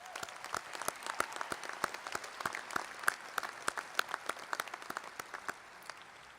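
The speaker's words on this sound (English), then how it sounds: "Some applause, please." Applause from a commencement ceremony audience at NJIT, a sustained spread of many hands clapping, somewhat distant and fairly soft, with no speech over it.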